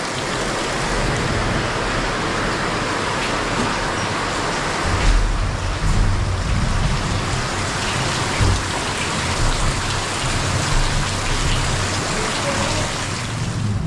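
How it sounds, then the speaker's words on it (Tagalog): Sudden heavy rain pouring down and draining at a construction site, a dense, steady hiss of falling water with a surge in intensity partway through, loud and continuous. "hindi rin natin makahabol kasi biglaan yung ulan"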